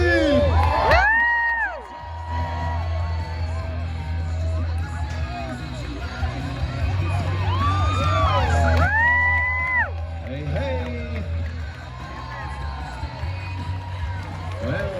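A rodeo crowd at the 2024 Grate Rodeo in Woodstock, Ontario cheers and screams during a bucking chute ride, a steady roar of voices broken by high whoops and shrieks, with an announcer talking over it.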